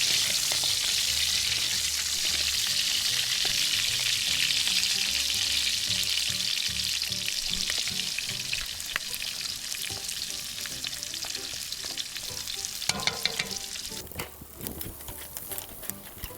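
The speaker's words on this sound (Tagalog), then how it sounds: "Ilagay na natin ang ating bawang." Garlic sizzling and frying in hot oil in a pan, a steady close bright crackle throughout, with a few louder stirring knocks and spatters near the end, for a Filipino home-cooked dish.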